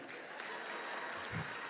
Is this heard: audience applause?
yes